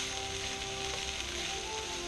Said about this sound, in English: listen to that baby sizzle